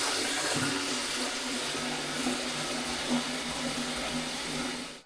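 Hot water streams steadily into a Pinter 2 home-brewing keg to sanitize it, a continuous close rushing pour with a low filling tone that holds for about five seconds and then cuts off.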